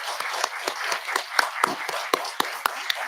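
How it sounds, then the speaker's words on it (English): Scattered, sharp hand claps from a small audience thanking panelists at a federal intern panel discussion. They come in a quick, uneven rhythm, fairly close and moderately loud, with no talk over them. "Let's give them a round of applause"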